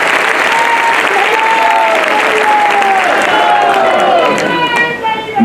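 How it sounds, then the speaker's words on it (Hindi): Loud applause from the crowd at a Kshatriya conference in Sagar, a continuous roar of clapping with voices and cheering mixed in, dipping briefly near the end. "तो जोरदार तालियां जरा भूपेंद्र सिंह जी के लिए हो जाए"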